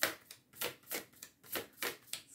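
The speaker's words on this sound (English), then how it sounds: "I want to give them one more shuffle for you" Repeated quick riffles of tarot cards being shuffled, about five crisp bursts in an even rhythm, close and fairly quiet.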